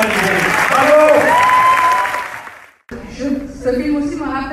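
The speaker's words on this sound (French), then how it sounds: "demander à toutes les nounous de se lever avec vos applaudissements" Applause fills a screening-discussion hall as nannies in the audience are invited to stand, loud and sustained with cheering mixed in, then fading out before a voice begins speaking.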